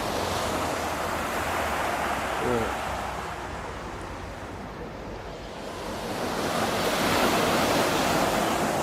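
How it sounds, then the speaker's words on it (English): Waves wash onto the Thames foreshore as a broad, rolling surge that swells, eases and builds again, mixed with wind buffeting the microphone and a single brief spoken word. "But waves will be coming in from that in a minute."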